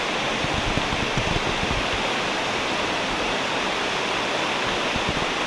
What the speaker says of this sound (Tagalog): andito na kami ngayon ni Junel sa shower falls.